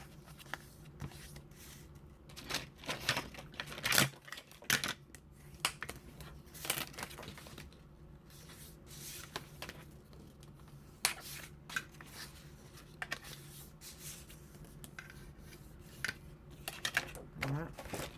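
Sheets of paper creased by hand to mark folds while making a notepad, producing soft, repeated crinkling and rubbing swipes at close range over a low background hum.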